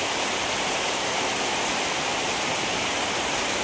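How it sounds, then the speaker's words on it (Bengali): Early-morning rain falls in a steady, dense hiss that stays even and continuous throughout, with no other sounds breaking through. "দেখুন সকাল সকাল বৃষ্টি শুরু হয়ে গেছে।"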